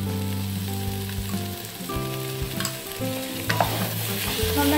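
A spoon stirs soya chunk biryani masala with yogurt in a hot pan: bubbling sizzle under repeated scraping strokes, accompanied by a low steady tonal hum, close up and without speech.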